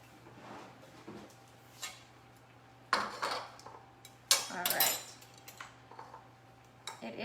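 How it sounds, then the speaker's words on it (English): A spoon scoops roasted sweet potato flesh out of its skin, with scattered soft scrapes and a few sharper clinks of metal against the dish, close and quiet. "And then I just scoop it with the spoon around"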